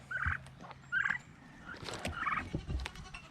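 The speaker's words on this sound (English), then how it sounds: "I guess the turkeys want milk" Turkeys gobble near a goat being hand-milked, several quick rattling bursts, close and fairly loud, with scuffling farmyard noise between calls.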